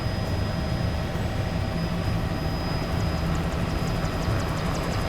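A helicopter flies over a rhino darting operation in Kenya, its engine and rotors making a loud, steady roar with a faint rhythmic chop, constant throughout with no voices.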